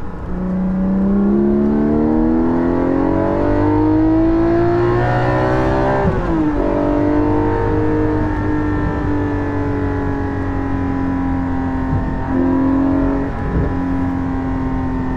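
A Porsche 718 GT4 fitted with a Soul Performance rear exhaust section drones steadily at high revs, its tone climbing through acceleration, briefly dipping on a shift and then holding a strong, even pitch near 4,500 to 5,000 RPM.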